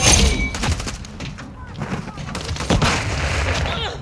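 Gunfire in the video game Modern Warfare 3 on the Rust map, with bursts of shots and thumping impacts spread across a busy, loud stretch of game audio.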